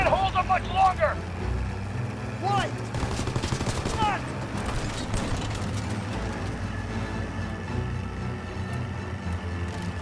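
Gunfire in the World War II shooter Call of Duty WW2 during Operation Cobra, bursts of shots mixed with vehicle rumble and shouting voices, loud and chaotic throughout.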